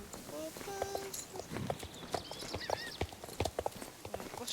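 Horse hooves clip-clop in the video game Star Stable Online, a steady run of light close hoof taps mixed with chirpy game sounds and music tones, while a voice talks over them.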